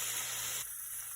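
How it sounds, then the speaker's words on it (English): Pork fries in a pan with a faint steady sizzling hiss that drops off partway through. "So the pork is frying"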